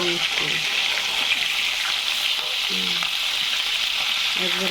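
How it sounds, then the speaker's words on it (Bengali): Hilsa fish pieces fry in hot oil in a pan, a loud steady sizzle and hiss filling the whole stretch, with a voice speaking intermittently over it. "ইলিশ মাছ বেশি ভাজতে লাগে না।"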